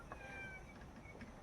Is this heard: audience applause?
no